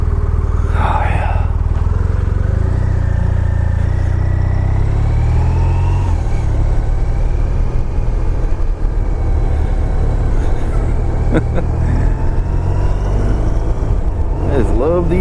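A motorcycle engine drones steadily on the road with constant wind rush, pitch rising and falling as the rider shifts and accelerates.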